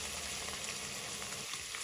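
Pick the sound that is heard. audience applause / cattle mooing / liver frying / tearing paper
liver frying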